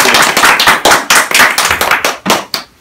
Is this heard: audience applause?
yes